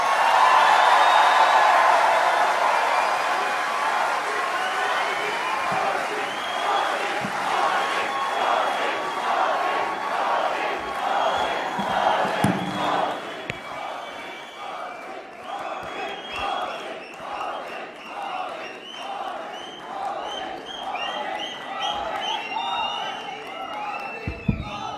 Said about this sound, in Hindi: तालियों की गड़गड़ाहट से स्वागत करें